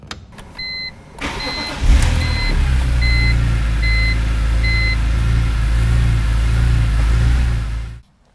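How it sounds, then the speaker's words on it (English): A car engine cranks and starts after a few chimes, then idles with a steady low rumble before cutting off abruptly. "Well, the engine sounds good."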